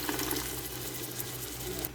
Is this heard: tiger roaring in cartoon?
no